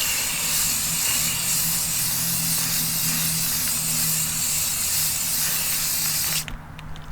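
Black spray paint hisses steadily and loudly from an aerosol can onto the wheels of a TDI truck, a continuous close spray that cuts off abruptly near the end.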